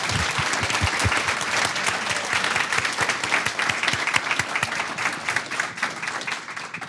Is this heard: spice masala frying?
no